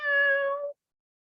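A person's voice imitates a cat with one clear, drawn-out meow that ends abruptly, followed by silence.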